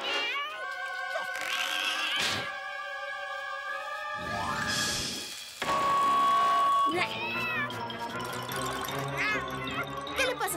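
A cartoon cat meows several times, with long drawn-out tonal cries over background noise and speech-like sounds throughout.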